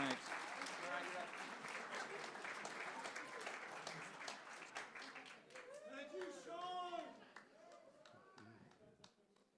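Audience applause at a radio station's volunteer appreciation party fades out under a voice as he starts talking again, with a few scattered claps lingering near the end.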